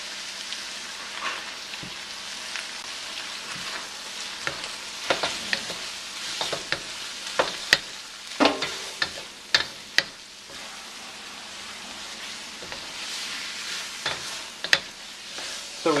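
Ribeye sizzles and is stirred in a wok with bamboo utensils. A soft, constant frying hiss runs throughout, broken by frequent sharp scrapes and clicks of the utensils against the pan.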